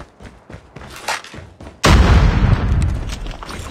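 A frag grenade goes off in a Call of Duty Search and Destroy match, a sudden loud boom whose heavy rumble and debris noise carry on for nearly two seconds after quieter gunfire and game sounds.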